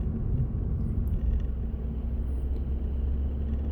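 Low, steady engine rumble and road noise from inside a car pulling out of Le Havre during a driving-test route, held at an even level with no talk over it.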